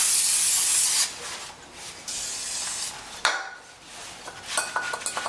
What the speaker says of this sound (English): Just need to do a spray and wipe down now on all this